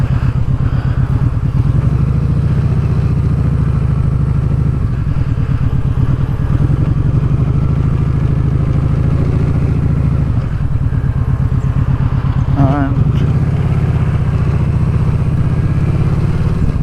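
Vulcan Vaquero motorcycle engine running steadily with its baffle cut out, a loud close, continuous throbbing exhaust with a loose part rattling inside, holding for the full length with no talk over it.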